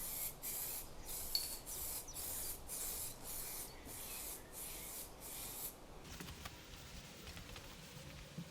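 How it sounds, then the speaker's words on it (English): Spray paint sprayed onto parts of a classic British Armstrong MT500 motorcycle, a series of close hissing bursts in steady rhythm for about six seconds, followed by quieter rubbing and handling noise. "this is where we get everything covered in overspray anyway"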